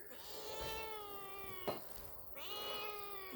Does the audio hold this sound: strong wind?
no